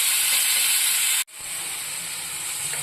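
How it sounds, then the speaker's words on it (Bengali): Two chopped medium onions frying lightly in a pan, a steady close hiss and sizzle that briefly cuts out mid-way and then resumes, no talking. "চপ করা 2টো পেঁয়াজ, মিডিয়াম সাইজের 2টো পেঁয়াজ আমি এখানে ব্যবহার করেছি। হালকা করে ফ্রাই করে নেব।"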